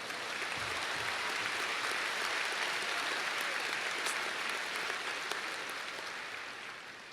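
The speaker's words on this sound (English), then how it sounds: "Yeah, that deserves a round of applause." Crowd applause at a high school graduation, a thick, steady wash of many people clapping in a large space, holding for several seconds before easing slightly toward the end.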